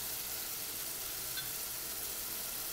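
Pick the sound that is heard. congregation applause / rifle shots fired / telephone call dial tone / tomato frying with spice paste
tomato frying with spice paste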